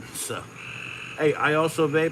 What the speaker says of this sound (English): That's the sound of frogs getting it on.